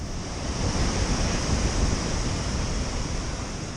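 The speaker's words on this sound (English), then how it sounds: "Soon it was replaced by the roar of the falls." Steady roar of a 42-foot waterfall, a dense continuous rush of falling water filling the whole span, loud and unbroken, with no voices.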